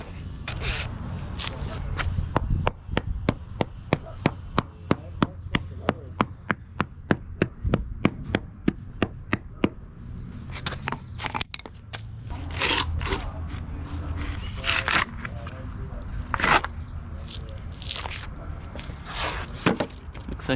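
Wooden forms come off curing concrete in a long run of sharp, evenly paced knocks, like hammer taps, followed by scraping and irregular clatter, close by with no talking.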